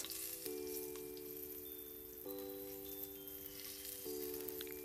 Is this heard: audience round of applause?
no